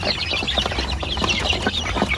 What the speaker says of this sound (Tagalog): Yan natin mga alagang manok katambayan, no?